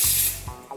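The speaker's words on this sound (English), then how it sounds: "So I'm going to spray a little bit of hairspray." Hairspray hissing from an aerosol can onto hair during ballroom dance hair styling: one short, close burst that fades within half a second, followed by faint handling rustles.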